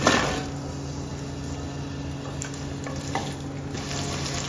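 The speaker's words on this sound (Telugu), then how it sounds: "ఈ ఉల్లిపాయ పచ్చిమిరపకాయలు కూడా వేసేస్తున్నాను" Onions and green chilies sizzling in a pan for a broad bean biryani, a steady close frying hiss running throughout with a few light stirring knocks and no talking.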